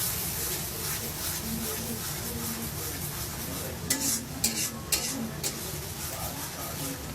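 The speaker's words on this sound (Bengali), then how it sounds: "হালকা গরম পানি দিয়ে এটাকে ভালো করে ভাজা ভাজা করে কষানো হচ্ছে" A spoon stirs blended masala as it fries with a little warm water for a crab curry. Soft scraping and frying run steadily, with a few sharp clinks of metal against the pan near the middle.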